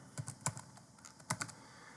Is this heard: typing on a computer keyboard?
yes